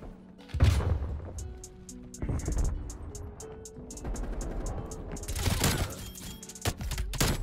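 MP5 gunfire from Call of Duty Cold War, fired from the hip: short rapid bursts of automatic shots with heavy thumps, loud and close, broken by brief pauses.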